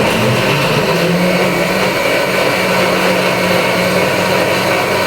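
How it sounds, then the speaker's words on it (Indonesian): An electric kitchen blender whirs steadily for about five seconds, blending ingredients until smooth for a restaurant-style dish. The motor noise is loud and close, with no talking. "Ini di blendernya kalau bisa sampai lembut ya Lik ya"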